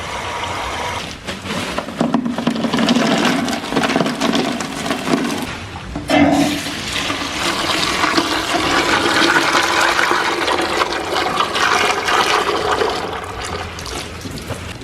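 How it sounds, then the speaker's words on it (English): Water is poured in steadily with a continuous rushing, splashing wash that stays fairly loud and close for about fifteen seconds, with no voices. "So add a little bit of water."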